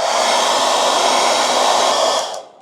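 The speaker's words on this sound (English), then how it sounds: "Now I'm going to use this hairdryer to just warm that up nicely." A hair dryer blows steadily at close range with a high, airy whir, then cuts off and winds down at the end.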